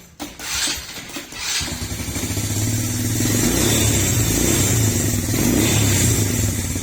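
A Viar 150cc ATV engine, freshly fully serviced, cranks with a few clattery attempts, then catches and settles into a steady, loud, buzzy idle close by.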